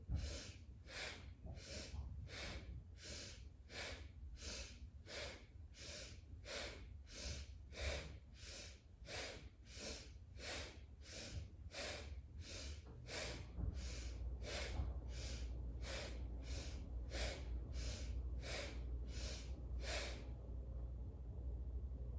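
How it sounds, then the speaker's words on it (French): Rhythmic breathing exercise: about twenty evenly spaced, forceful nasal breaths, quick sharp inhales and exhales pulsing steadily for roughly twenty seconds, close and clear over a faint background hum, then stopping abruptly. "Le prochain, inspire, expire. Inspire, expire."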